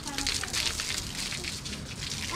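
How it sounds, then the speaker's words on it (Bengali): Water pours steadily onto plants in a rooftop garden in Pabna, a continuous close splashing and trickling hiss that runs the whole time. "আমাদের ভাইয়ে পানি দিচ্ছে গাছে"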